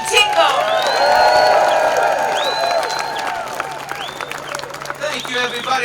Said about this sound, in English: Let's give a big round of applause for Jimmy Tingle.